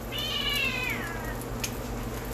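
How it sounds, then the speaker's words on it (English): A pet cat on a kitchen counter gives a single clear, close meow that slides downward in pitch, followed by a quiet steady household hum. "Trying to get my cat off the counter."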